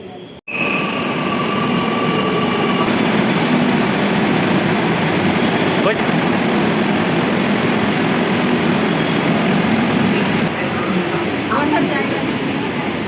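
Steady, loud rumble from inside a moving rail metro train with rain falling outside, holding constant for the whole stretch with a faint murmur of voices underneath.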